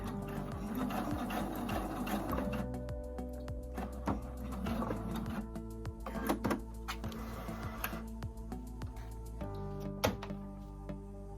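A sewing machine runs a straight stitch in a steady mechanical whir with clicks and thunks as stitching slows and stops near the end, close up and fairly quiet.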